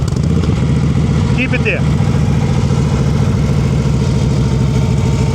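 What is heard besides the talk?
motorcycle engine idling near stalling with low clutch preload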